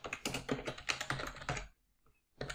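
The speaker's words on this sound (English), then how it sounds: "let's type in some text for our watermark" Typing on a computer keyboard: a quick, close run of clattering key presses for about a second and a half, then a short pause before a few more keystrokes.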